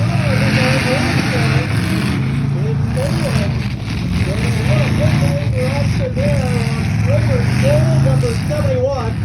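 Demolition derby car spinning its wheels in the dirt, engine revving hard in repeated surges close by, under loud announcer commentary and crowd noise.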